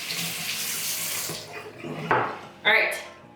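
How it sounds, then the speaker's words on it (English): Tap water runs steadily into a sink while plant leaves are rinsed under it, a close, hissing splash that thins out, followed by a few wet sloshes and clattering knocks at the basin. "Rinse off these leaves one more time."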